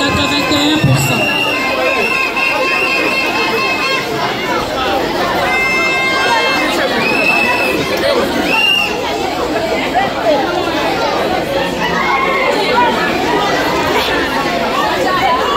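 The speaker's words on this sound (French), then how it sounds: "Encouragez l'enfant par les acclamations" A school crowd cheers and chatters for a pupil at an end-of-year prize ceremony, a dense, steady wash of many voices filling the whole stretch with no break.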